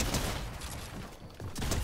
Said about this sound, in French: le pompe que j'ai, il tire des sortes de rafales de pompe